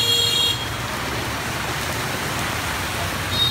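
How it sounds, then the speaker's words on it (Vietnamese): Heavy rain pours onto a flooded Saigon street during evening rush hour, a broad steady hiss of falling water with a faint hum of traffic beneath and a brief high tone at the start and end. "Cơn mưa này thì bắt đầu từ lúc 17 giờ,"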